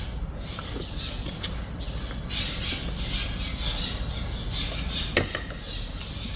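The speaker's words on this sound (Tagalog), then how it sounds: "Grabe mga ibon, no?" Birds squawk and chatter continuously at a distance over a low rumbling background, in a parking area, with one sharper click near the end.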